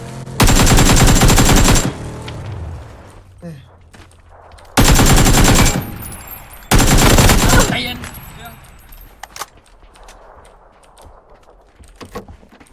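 Loud automatic gunfire in the video game PUBG comes in three long sustained bursts, with quieter single shots and clicks between them and no voices.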